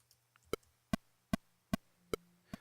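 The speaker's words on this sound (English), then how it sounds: "So you can hear it's just straight quarter notes there" Pro Tools metronome click track playing straight quarter notes, six sharp, evenly spaced electronic clicks close and clear over near silence, with faint low hum between them.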